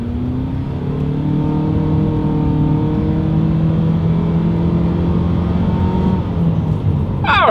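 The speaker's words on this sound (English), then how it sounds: "let's go ahead and actually see what the acceleration feels like here in the Outlander Sport" A 2020 Mitsubishi Outlander Sport accelerates hard along a straightaway, with the engine droning loudly from inside the cabin and its pitch rising steadily.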